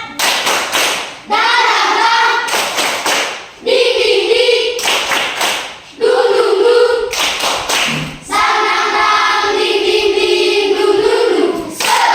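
Schoolchildren in an elementary classroom perform a rhythmic spirit clap, loud bursts of quick patterned clapping alternating with sections of the group chanting together, all close and energetic.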